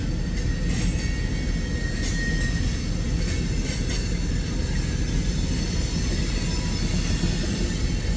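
An agricultural freight train rolls past in the Midwest at Pacific Junction, Iowa, a steady, loud, close rumble of railcars with faint wheel squeals and clatter running unbroken throughout.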